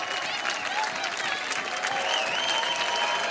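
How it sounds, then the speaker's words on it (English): A crowd claps and cheers in a scene from the Fallout TV series, a dense, steady burst of applause with whoops and voices threaded through it. "Why are they clapping?"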